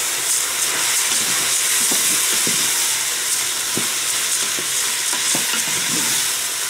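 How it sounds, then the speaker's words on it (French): Whole packet of rice stirred in a pot with lardons for risotto, a steady hiss and sizzle with scraping stir strokes close by, no voices. "Alors, je vais mettre le riz maintenant."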